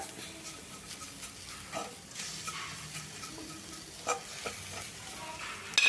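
Onion, grated coconut, crushed ginger and garlic sauté in a pan with a continuous soft sizzle and scraping spoon strokes, close and even, with no talking.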